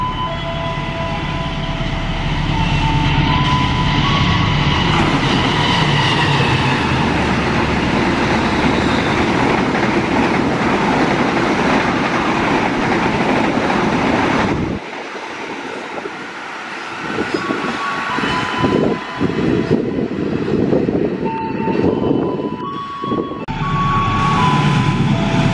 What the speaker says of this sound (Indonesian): ini melintas kereta api Argo Muria